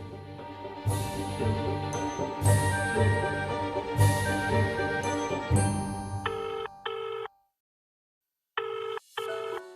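A telephone rings in repeated bright electronic bursts with short gaps and a brief silence, coming in after a passage of music, with no talking.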